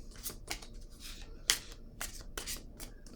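Tarot cards are shuffled by hand for a reading, heard as soft, irregular riffles and slaps with one sharper snap, close and fairly quiet, with no talking.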